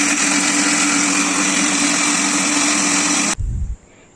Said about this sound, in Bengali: এবার মিক্সারে পেঁয়াজগুলোকে আর রসুন, আদা এই তিনটে জিনিস দিয়ে ভালো করে মিক্স করে নেব।